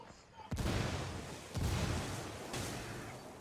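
Gameplay from Ghost Recon Wildlands PvP: three heavy booming blasts from a grenade and gunfire land about a second apart, each a loud broadband burst with a rumbling decay, over a constant background of battle noise.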